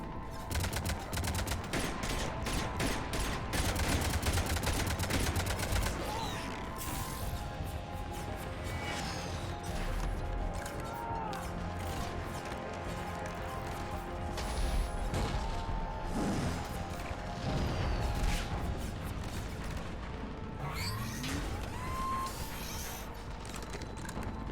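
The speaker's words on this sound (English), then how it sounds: "Cannons engaged." Cannons fire in a Legendary Edition video game, a dense barrage of heavy booming blasts and crashing impacts that runs almost without pause, loud and close, with occasional voice underneath.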